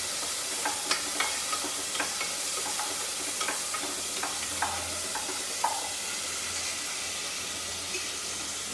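Onion, tomato, coriander and chilies cook in ghee over a medium-to-low gas flame, giving a steady soft sizzle broken by repeated light scraping and stirring clicks, with no talking.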